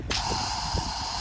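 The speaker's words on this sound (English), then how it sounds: "Big ol' line spray, wide spray." Water spraying from a Vego retractable garden hose nozzle set to a wide spray, heard as a steady, close hiss that runs without a break from a sharp start.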